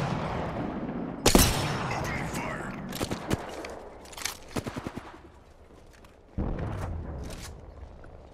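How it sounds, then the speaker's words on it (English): Marksman rifle fire in Apex Legends, with one loud sharp report followed by a few lighter cracking shots and another heavy blast near the end, mixed with faint game ambience. "Opening fire."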